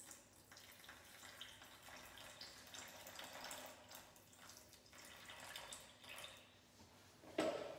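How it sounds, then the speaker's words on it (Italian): Water trickles from a tap into sourdough bread dough, a faint, soft stream with small splashes and drips, quiet and close, ending in a brief louder bump. "adesso gli diamo l'acqua."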